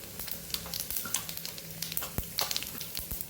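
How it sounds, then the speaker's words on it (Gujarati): Cumin seeds sizzling in hot ghee and oil for a dal tadka, a close busy crackle of rapid pops and spits, steady throughout with no voices. "ઘી અને તેલ સરસ ગરમ થઈ ગયું છે અને હવે આપણે એમાં અડધી ચમચી જેટલું જીરું નાખી"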